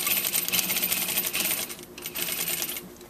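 Sewing machine running steadily as it stitches a fabric seam on a clutch bag, a continuous fast mechanical rattle at close range with a brief slowdown midway, no voices.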